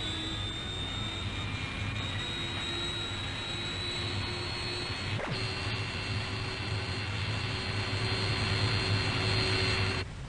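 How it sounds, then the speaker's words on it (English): A CAC Sabre jet aircraft on the runway at RAAF Butterworth in Malaysia, 1960, with a loud, steady jet engine roar and whine that holds throughout. "During routine training, aircraft take off and land in an almost continuous stream."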